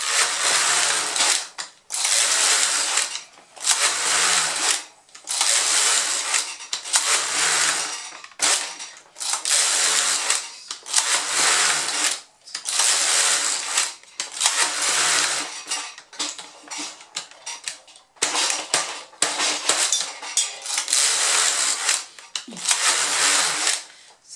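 A knitting machine works a baby bonnet in repeated passes, each a rattling, ratcheting clatter of about a second with short pauses between. The machine is sticking and does not run smoothly, and the sound stays close and loud.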